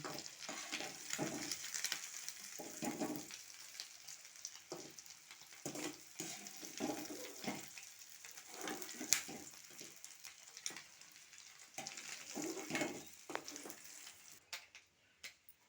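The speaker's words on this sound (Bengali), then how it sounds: "এই যে ডিমগুলো সব ভাজা হয়ে গিয়েছে আমি তুলে নিয়েছি" Eggs fry in oil in a pan for homemade egg paneer, a quiet, uneven sizzle that swells and fades in short bursts, with faint scrapes and taps.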